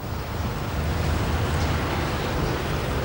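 A 1991 Ford Escort estate car drives along, its engine and road rumble forming a dense steady roar with broadband wind and tyre noise, constant in level and heard from inside or close by.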